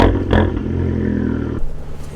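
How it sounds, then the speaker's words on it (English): Engine and exhaust of a 2013 Fiat 500 Abarth, a loud deep burbling roar that swells, holds steady and then cuts abruptly before a brief rumble returns. "sound of that exhaust, and it just sounds amazing."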